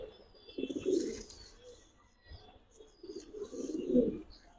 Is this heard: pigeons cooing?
yes